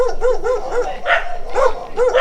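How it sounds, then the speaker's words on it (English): Several big dogs barking in repeated bursts, loud and close, with overlapping deep woofs and some higher yelps, heard outdoors in Jamaica. "They sound like some big dogs."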